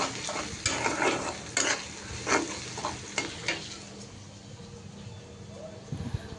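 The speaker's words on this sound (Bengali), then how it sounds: "এই তো তরকারিটা নাড়াচাড়া করে দিচ্ছি বারবার।" Curry being stirred in a pot with a spoon over a sizzling simmer, producing a series of scraping, clinking strokes roughly every half second, then fading into a low steady bubbling background.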